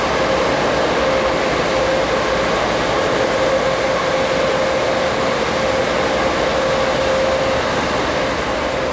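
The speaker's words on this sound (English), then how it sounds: "the head-end cut of coaches is pulled down to the very south end of the yard" Amtrak Auto Train passenger coaches rolling slowly through a rail yard, a steady rumbling hum of wheels and equipment with a faint sustained whine running through it.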